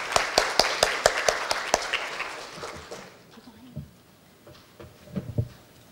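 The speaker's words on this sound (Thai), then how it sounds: "ขอปรบมือให้เกียรติท่านด้วยค่ะ" A small audience at a Thai seminar on saltwater intrusion claps to welcome a speaker onto the stage: a short, sparse patter of hand claps that quickly fades into quiet room noise.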